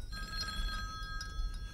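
A telephone bell rings steadily with a thin, high electronic trill at moderate distance over a low background rumble, with no talk.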